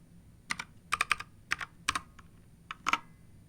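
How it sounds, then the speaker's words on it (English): An IP address is typed on a laptop keyboard: close, crisp key clicks fall in short irregular clusters, with a few single taps between them, over a quiet background. "I think I'll just type it out"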